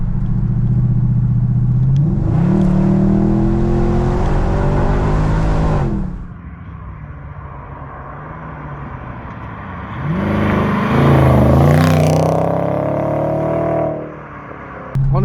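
A grand tourer car's engine accelerates hard, rising in pitch as it pulls through the gears, drops to a low idle-like drone, then roars up loudly again before easing off.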